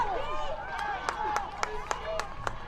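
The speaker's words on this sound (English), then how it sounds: "The Westfield crowd sitting just in front of us, you could hear them urging on their defense." Westfield fans at a high school football game against Ben Davis cheer on their defense with rhythmic clapping and a murmuring crowd, while commentators talk over it.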